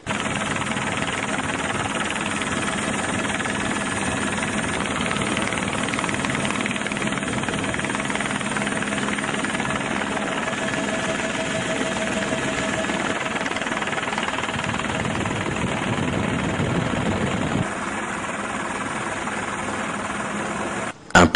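A helicopter flies steadily overhead for aerial filming above the Luapula River, a loud continuous rotor and engine drone with no pauses, filling the whole stretch without talk.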